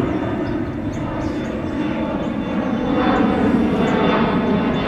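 Jet aircraft departing Boston Logan airport on a flight to New York JFK, a broad continuous engine roar heard at a distance and gradually swelling slightly louder.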